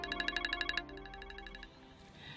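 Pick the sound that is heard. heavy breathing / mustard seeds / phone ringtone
phone ringtone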